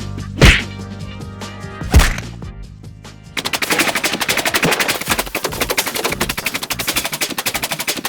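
Two sharp isolated bangs followed by a rapid burst of automatic gunfire, played as a sound effect in a stand-up comedy show, loud and close with no talking over it.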